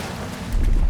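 Waterfall in the video game Avowed, a steady broadband rush of falling water that swells louder with a deep low rumble in the second half, heard alone without talk.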